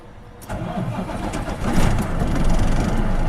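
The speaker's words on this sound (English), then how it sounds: "Now I will start the vehicle." A truck engine cranks and catches about half a second in, then settles into a steady, loud, close idle that rises slightly, with no talking.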